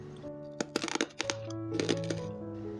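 Close, crisp crunching of crispy fried flour snack sticks: sharp cracking bites in quick bursts, over a faint steady hum in the background.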